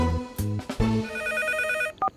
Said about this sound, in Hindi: इतनी रात को कौन फोन कर रहा है मुझे?